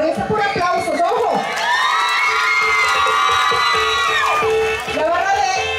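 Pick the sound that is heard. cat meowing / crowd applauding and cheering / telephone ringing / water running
crowd applauding and cheering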